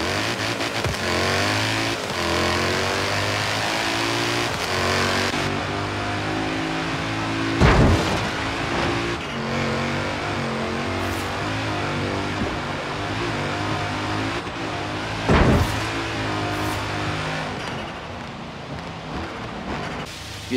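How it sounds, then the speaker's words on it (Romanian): A rally car in Forza Horizon 3 accelerating hard, its engine roaring loudly and climbing through revs, with two sharp gear-change bursts along the way, heard alone without voices. "urmează să vedeți cea mai brutală accelerație"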